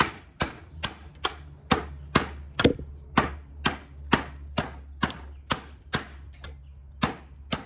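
A Rough Ryder Highland Bowie thrower knife chops repeatedly, about sixteen sharp, evenly spaced blows landing close by in a steady rhythm, with no talk.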